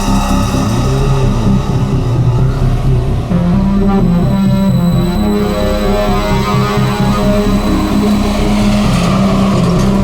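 A car in a parking lot heard through CCTV, a steady close engine drone with low rumbling harmonics holding throughout, no voices.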